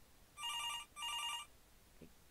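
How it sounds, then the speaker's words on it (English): A telephone rings in two electronic bursts, loud and close, then falls quiet apart from a brief faint blip. "I guess I should answer my phone."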